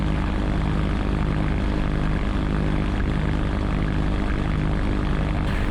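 A GT500 light aircraft's engine runs at a steady, loud propeller drone, continuous and close, with no voices over it.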